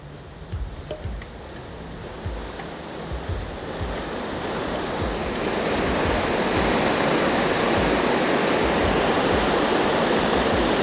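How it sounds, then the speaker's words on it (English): Water spilling over a partly broken reservoir dam, a broad steady rushing roar that swells and grows louder through the clip. "that part of the dam is a little broken, so some of the water is flowing over."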